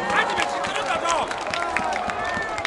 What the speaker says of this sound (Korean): 자 우리 문재선수에 다시 한번 더 큰 박수 부탁드리도록 하겠습니다